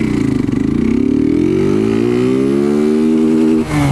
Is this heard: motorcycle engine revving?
yes